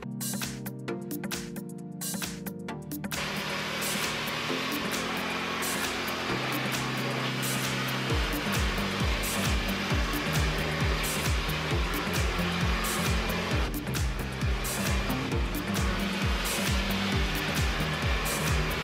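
Hair dryer blowing gray hair dry, a continuous loud airflow roar with a steady motor hum that shifts in pitch as it moves, beginning after a few seconds of rustling and running on alone.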